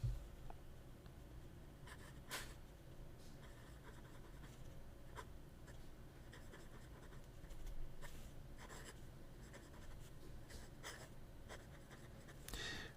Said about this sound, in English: the writing experience of this unique 1-in-1 Napoli